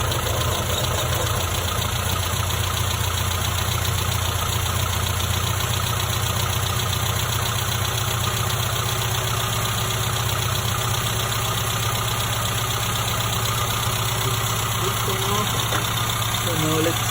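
A-series engine idling with a 123ignition distributor, vacuum line disconnected and port blocked, running with a steady, even mechanical drone and faint rhythmic ticking throughout, loud and close.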